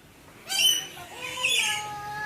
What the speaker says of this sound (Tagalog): There's a myna.